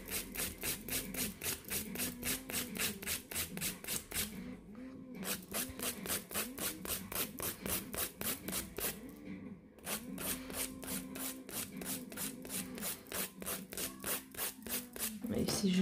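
An electric nail sander files gel nail resin in rapid rhythmic strokes, quiet and close, with two brief pauses.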